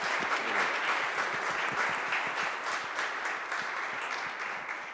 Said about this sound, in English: Another round of applause for Pascal.